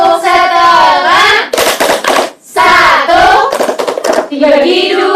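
A primary school class chants in unison during a maths lesson on fractions, breaking into bursts of rhythmic hand clapping between the chanted lines, loud and close.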